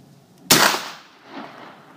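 A black powder gun fires once at an outdoor shooting event: a sudden, loud, sharp blast that decays into a rolling boom, followed by a fainter echo about a second later.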